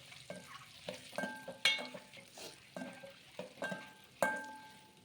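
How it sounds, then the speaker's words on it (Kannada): Boiled eggs turned in hot oil with turmeric for an egg masala gravy, a spoon scraping and stirring in a steady rhythm over a soft sizzle, with several sharp metallic clinks, close and alone. "ಮೊಟ್ಟೆಗಳನ್ನ ಹಾಕ್ಕೊಂಡಿದ್ದಾಯಿತು ಇವಾಗ ಸ್ವಲ್ಪ ಅರಿಶಿನ ಹಾಕಿ ಚೆನ್ನಾಗಿ ಫ್ರೈ ಮಾಡ್ಕೋತಾ ಇದ್ದೀನಿ"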